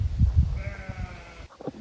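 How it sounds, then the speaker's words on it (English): A sheep gives one sustained, wavering bleat, close by, rising over a low rumbling background and then breaking off. "The sheeps also want to be in the video."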